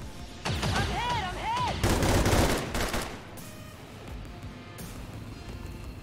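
Weapon fire in the modded tactical game XCOM 2, loud bursts of gunshots and crackling automatic fire alongside synthetic whooping effects, then fading to lingering rumble and scattered impacts.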